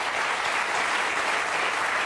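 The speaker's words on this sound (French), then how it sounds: "Tout le monde applaudir" A television studio audience applauds for a guest, a dense, even wash of clapping sustained throughout at close range.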